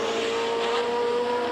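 Formula One cars at the 1973 British Grand Prix scream past with a high, steady engine whine, close and loud, a March 731 among them, no talking.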